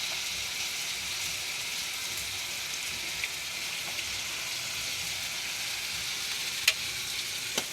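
Bihon noodles and vegetables cook in a pan over high heat, giving a dense, steady sizzle and crackle that runs unbroken throughout, with a few faint ticks of utensil contact.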